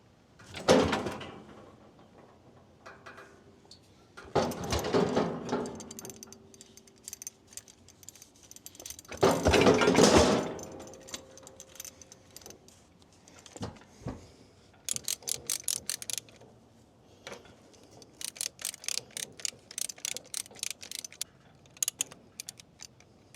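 A livestock chute clamping a bull, with heavy metal clanks and bangs, then rapid rattling, ratcheting clicks in bursts, close and loud against a quiet background.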